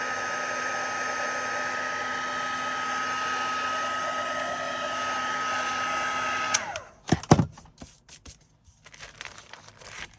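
A hair dryer drying junk journal craft pieces blows a steady, close whirring hum for several seconds, then cuts off abruptly, leaving soft paper crinkles and handling noises.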